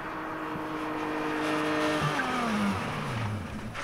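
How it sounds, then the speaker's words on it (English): A sports car braking hard from 60 mph, with loud tire squeal sliding down in pitch over a steady engine and road roar, ending in a scrubbing skid as it stops. "the last one is a sports car from 60 miles an hour"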